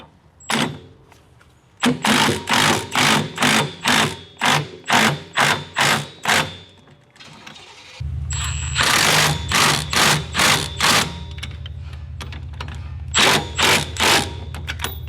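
Caliper bracket bolts on a Nissan 240SX (S13) being run down with a power tool, arriving in repeated short bursts, first alone and then over a steady low engine-like hum, loud and close.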